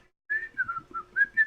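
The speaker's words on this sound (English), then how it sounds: "What is with the whistler? Why must you whistle?" A person whistles a short, wavering tune of several clear notes, close and alone after a brief silence, in a quiet work setting.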